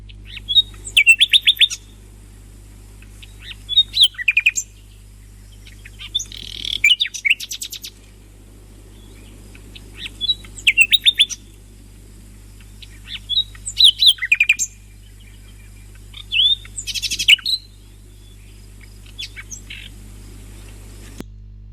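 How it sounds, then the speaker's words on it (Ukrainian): A nightingale sings bright, brief phrases at regular intervals over about twenty seconds, with pauses between bursts and a steady low hum underneath. "Правильно, діти, це соловей."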